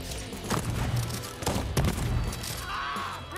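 Shotgun blasts and gunfight noise in the first-person shooter Deathloop, several sharp shots at moderate volume over a busy game soundscape.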